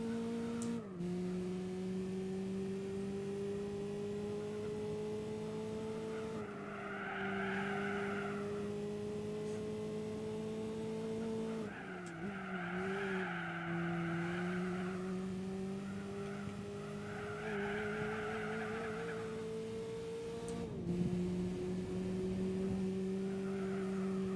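Engine drone from a front-wheel-drive car in a TT Cup race in Gran Turismo 4, with repeated tire squeals from wheel spin, the pitch wavering and sliding throughout.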